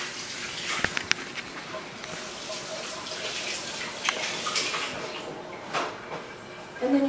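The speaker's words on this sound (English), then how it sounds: "Let me just wash my hands real quick." Tap water runs into a kitchen sink as hands are washed while preparing clams oreganata, a steady, moderately faint broadband rush with a few small clicks and splashes, heard alone without talk.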